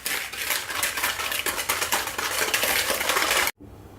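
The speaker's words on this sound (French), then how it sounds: "je rajoute à présent mon sucre semoule et je vais fouetter pour blanchir en fait mes deux éléments" A whisk beats sugar and eggs in a bowl in quick, continuous metallic clicking and scraping strokes, then stops abruptly near the end.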